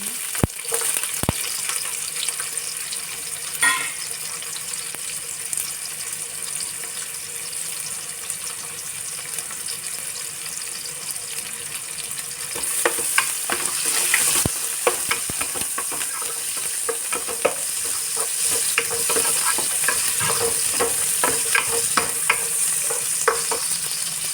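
Onions frying in oil in a pan, with a continuous sizzle and intermittent scraping from stirring, plus a few sharper clatters, building slightly louder toward the end with no speech.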